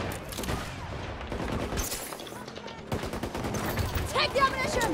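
RPT-31 light machine gun firing in Battlefield 2042, rapid sustained automatic bursts close and loud, with brief gaps and dense battlefield noise throughout.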